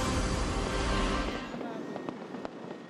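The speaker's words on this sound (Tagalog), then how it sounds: "Naging bahagi ng pagsalubong ng bagong taon ang mga ganitong makukulay na pailaw at nakakabinging mga paputok." New Year's fireworks and firecrackers in the Philippines burst in a loud, dense roar that fades after a second or so into a few sharp, scattered cracks.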